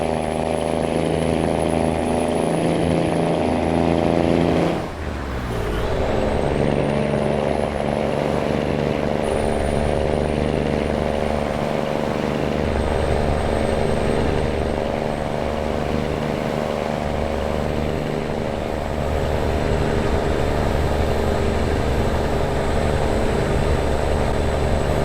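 A heavy truck engine from a sound mod in American Truck Simulator, hauling a load, drones steadily and loud with a deep low rumble throughout, a brief dip near the start before the engine note resumes and holds.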